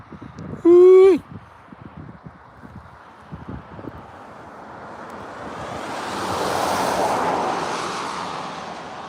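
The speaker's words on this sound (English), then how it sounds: "Starting to get a little breezy out there too." Breezy wind blows by the Deschutes River during steelhead fishing, a broad steady rush that swells louder toward the end, with a brief loud tonal whoop near the start.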